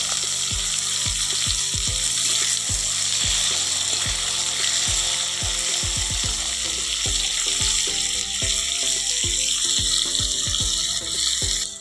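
Potatoes and radish frying in a pan with salt added, a loud continuous hiss and sizzle with rapid crackling and a run of close, sharp clinks and taps of a utensil against the pan.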